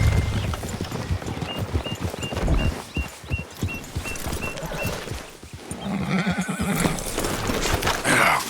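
Horses in a Red Dead Redemption 2 game scene, with hooves clopping and repeated neighing and whinnying, a steady tonal ping recurring, and louder rustling movement near the end.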